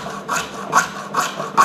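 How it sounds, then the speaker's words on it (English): Hacksaw blade sawing back and forth, close and loud, in four even rasping strokes with brief pauses between. "Once the hacksaw blade goes in, start turning the angle you're holding"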